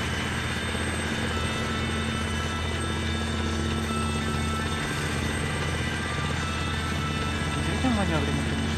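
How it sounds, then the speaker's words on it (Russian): A low-flying airplane in the ArmA 3 game gives a loud, steady engine drone with a constant hum throughout, and near the end a short tone falls in pitch. "А, это самолет."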